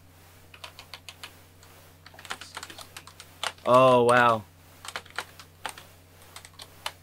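Rapid, uneven keystrokes on a computer keyboard clatter close by throughout, pausing briefly while someone speaks a short exclamation, then resuming.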